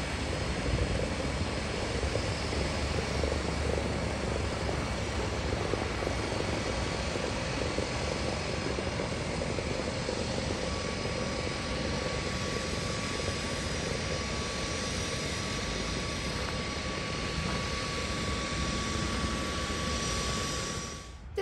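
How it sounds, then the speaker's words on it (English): A 1954 Canadian-built De Havilland DHC-3 Otter seaplane on final approach drones with a steady, loud piston engine and propeller roar that holds for about twenty seconds before easing off at the end, with no talk. "On final is a Harbour Error De Havilland DHC3 Otter"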